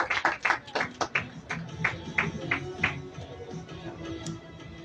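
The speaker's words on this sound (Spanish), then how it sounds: "fuerte aplauso, señores, para todos ustedes, grandes patrocinadores, grandes aficionados" Applause for sponsors at the presentation of the 20th Vuelta Femenina a Guatemala cycling race, a crowd clapping in a quick, uneven patter that starts strong and then thins and fades.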